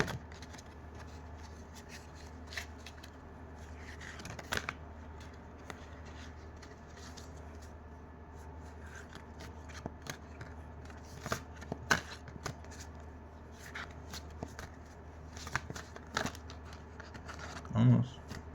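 Oversized tarot cards handled and shuffled, with scattered papery slaps, riffles and crinkles, close and intermittent over a low steady hum, a voice speaking at times.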